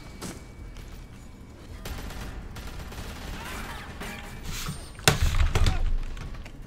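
A gunshot in the video game The Walking Dead: A New Frontier lands as one loud, sharp blast with a short rumbling tail, following softer thuds and steady background game noise.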